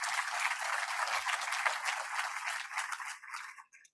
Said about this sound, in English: let's give a round of applause to our donors and benefactors.